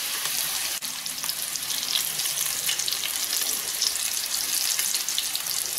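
Fish fingers frying in a pan over a low flame, a continuous loud sizzle and crackle of hot oil, close and steady, with one brief tap partway through.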